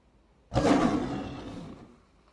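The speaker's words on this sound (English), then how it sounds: "I hear a lion roaring" A lion roars once, a single loud deep roar that bursts in sharply and fades over about two seconds.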